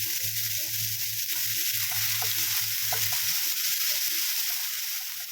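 Tomatoes sautéing in a pan for idli gravy, a steady close sizzle of frying with occasional stirring scrapes and small pops throughout, no talk.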